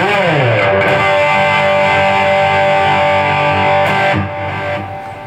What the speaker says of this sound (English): a three-string cigar box guitar and a six-string guitar sound good together